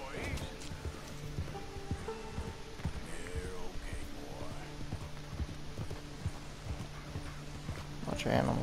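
Galloping horse hooves in Red Dead Redemption 2 thump in a steady repeating rhythm, close and moderately loud, beneath game music, ambient sounds and a voice talking over the ride.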